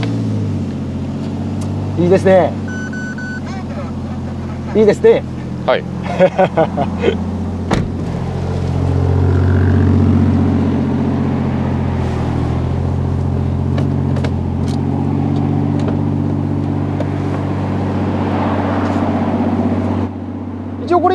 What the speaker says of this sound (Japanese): 早速、はい、マフラーサウンドチェックからいきますか